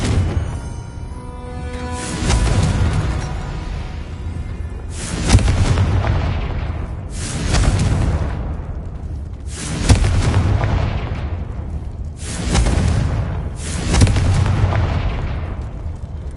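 Six heavy booming blasts from Confringo fire spells in Hogwarts Legacy arrive at roughly two-second intervals, each a loud burst that rolls off into a long rumbling decay, with no talk over them.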